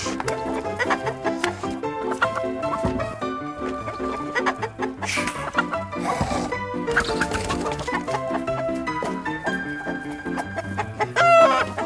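A rooster clucks and crows amid a dense, busy soundscape of layered music and other animal noises, with the bird's calls recurring throughout.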